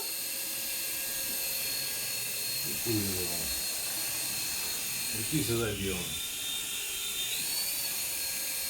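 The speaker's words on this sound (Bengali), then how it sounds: "এই যে হেলিকপ্টার চলতেছে ঘুরতেছে" A small buzzing toy helicopter motor whirs steadily, with two rising-falling sweeps as it spins up, while people talk nearby.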